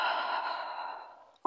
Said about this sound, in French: on essaie d'allonger l'inspire et d'allonger l'expire